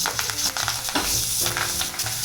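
Mustard seeds, cumin seeds and rinsed curry leaves sizzling in hot oil, a loud, crackling fry with quick pops throughout the short burst.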